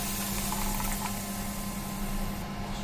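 Tomato ketchup made from strained tomato juice boils in a pan, giving a continuous close bubbling and simmering with a low steady hum underneath.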